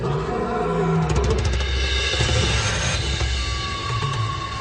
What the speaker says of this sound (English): When they're interrupted by a roar in the distance.